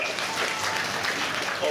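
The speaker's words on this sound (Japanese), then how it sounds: "みんなルナに拍手だ。" An audience at Turtle Talk in Tokyo DisneySea applauds for Luna: dense, steady crowd clapping fills the whole moment, with voices mixed into the noise.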